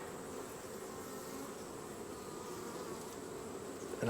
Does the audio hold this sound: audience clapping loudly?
no